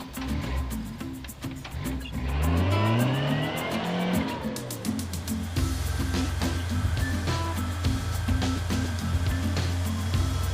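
Car driven hard around a parking lot, engine revving up and down through gear changes with squealing tires and skidding, loud and close, bursts of acceleration followed by a steady high-revving drone.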